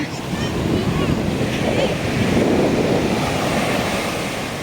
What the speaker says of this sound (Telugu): నీళ్ళు వస్తూ ఉన్నాయి, నేను దూరంగా వెళ్తూ ఉన్నా.